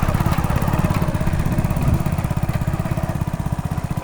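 A motorcycle engine runs nearby beside a rain-flooded canal bank with standing water, a fast, steady putter, loud and rhythmic throughout, no talking.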